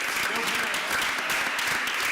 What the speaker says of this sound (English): give yourselves a round of applause for supporting your students